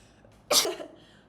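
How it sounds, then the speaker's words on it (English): A single sharp sneeze bursts out nearby, brief and loud against a quiet background. "I'm gonna sneeze."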